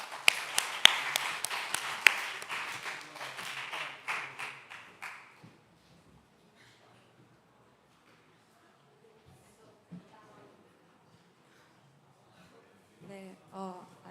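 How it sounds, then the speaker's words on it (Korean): Clapping at a church young adults' worship service, a short burst of hand claps from a small group that thins out and stops within about five seconds, followed by quiet room sound and then a voice speaking. "박수."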